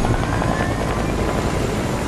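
Loud, continuous rotor whir and engine roar from a helicopter in a video game, steady and close with no voices over it.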